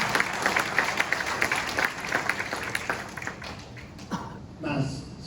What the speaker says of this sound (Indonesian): Jadi tepuk tangan dulu dong untuk Paman.